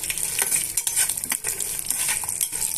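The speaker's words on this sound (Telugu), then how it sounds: "పల్లీలు కూడా ఇందులోనే వేసి ఇవన్నీ కూడా బాగా వేయించేసుకోవాలండి" Peanuts frying in hot oil in a tempering for ivy gourd curry give a steady, close crackling sizzle with bursts of stirring scrapes throughout.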